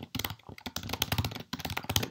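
Rapid clattering keystrokes on a computer keyboard, fairly close and continuous, in irregular bursts with two brief pauses and no voices.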